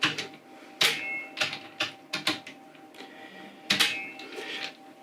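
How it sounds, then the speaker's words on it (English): A torque wrench tightens riflescope ring screws in a cross pattern, giving a series of sharp, close mechanical clicks and ticks in irregular rhythm, with a couple of louder snaps standing out. "We'll go ahead and torque them to a click."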